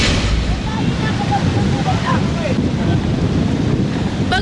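Strong wind buffeting the microphone with waves surging along Manila Bay, a loud, constant roar of rushing air and surf that never lets up.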